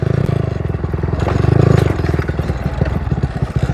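Motorbike riding along a broken, rough village road in the Sundarbans, its engine a steady loud close drone mixed with rattling and clattering bumps from the uneven surface, no voices.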